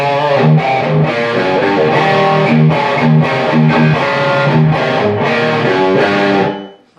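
Distorted electric guitar playing a quick single-note lick, loud and close, notes picked in a steady run with slight bends, ringing out then cutting off at the end.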